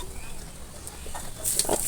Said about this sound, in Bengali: মরিচ ভাজা তেলের মধ্যে সামান্যতম পেঁয়াজ কুচি দিয়ে নিলাম